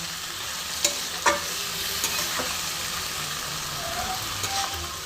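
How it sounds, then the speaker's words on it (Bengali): Cooked mung dal and water hit fried shiuli leaves in a hot pan, giving a steady close sizzle with a few scraping stirs and soft clinks. "এবার দেখো আমি ডালটা দিয়ে দিলাম, আর এরই সাথে আমি জল দেবো খানিকটা"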